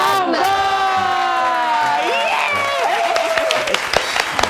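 Studio audience on a campus talk show cheers and whoops loudly, with sustained shouted voices sliding in pitch over a continuous wash of clapping and crowd noise.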